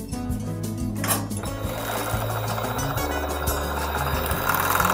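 A sewing machine runs steadily stitching a fabric strip sewn right sides together, its rapid mechanical chatter continuous and close throughout, with no talking.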